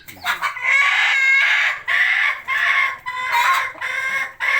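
Chickens cluck and crow loudly nearby in a run of four or five drawn-out, strained calls separated by brief pauses, the rooster crowing standing out clearly.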